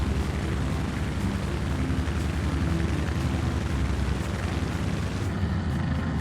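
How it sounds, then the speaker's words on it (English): Propeller aircraft engine in Microsoft Flight Simulator 2024 during a propeller pitch change, a steady loud rumbling drone with a low throb that continues unbroken throughout. "You hear the engine change pitch there."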